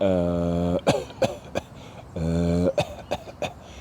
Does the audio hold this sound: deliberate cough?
yes